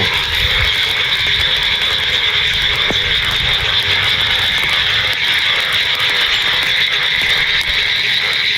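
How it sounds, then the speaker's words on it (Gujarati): Dense chorus of frogs croaking at a full rain-fed village pond, a continuous loud rattling drone with layered calls and no speech. "સાંભળી લો તમે આ દેડકાઓનો અવાજ કેવો કિલો કરી રહ્યા છે"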